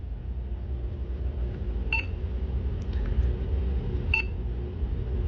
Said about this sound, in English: You can change the beep sound to either off or other.